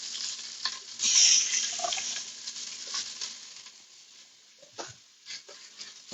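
Onions fry in a pot while being stirred to break up browned bits on the bottom, giving a hiss that swells and fades with scattered scraping knocks, growing quieter and patchier toward the end.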